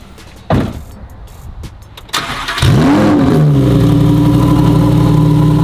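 After a few clicks and a brief whir, a Lamborghini Huracan Performante engine fires up with a loud swooping rev, then settles into a strong, steady idle close by.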